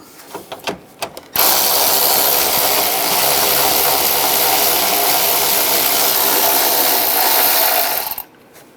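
A power tool whirs steadily and loudly up close for about seven seconds, after a few short clicks. It is driving out the side bolts of the coolant fan assembly on a 2011-2018 Ram 1500 with a 13 mm socket.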